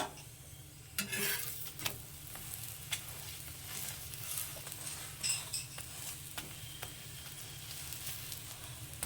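A radish-stuffed paratha frying in a pan over medium heat gives a soft, steady sizzle with scattered light scraping taps from a spatula.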